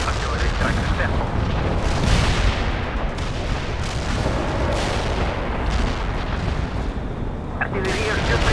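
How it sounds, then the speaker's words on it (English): An artillery barrage in World in Conflict pounds on without pause, with loud, dense booms and rumbling blasts stacked one over another for the whole stretch. "Deploy and lay down the heavy barrage"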